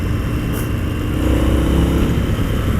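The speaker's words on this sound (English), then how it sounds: "there's a nice big V-twin engine" An Indian FTR 1200 motorcycle's big V-twin engine pulls hard under acceleration, a loud, close, steady roar with a deep low-end growl and no speech.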